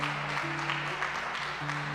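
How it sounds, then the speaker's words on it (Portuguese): A church congregation claps together in a steady wash of applause, backed by a sustained organ or keyboard chord. "Aplauda bem forte ao Senhor."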